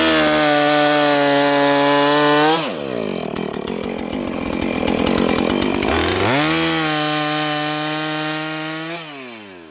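A chainsaw bucks a cut tree limb into firewood. The loud, near engine idles, revs up and bites through the wood for a few seconds with a rough buzzing roar, then drops back to a smooth idle and winds down.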